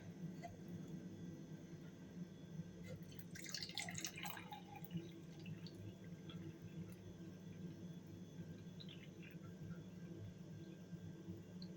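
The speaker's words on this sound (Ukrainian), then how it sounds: "Так, відміряла кількість води, додаю до нашого желе." Soft trickling and dripping of hot water, about 80°C, poured into jelly for a dessert, over a steady low background hum, quiet and close, with no talking.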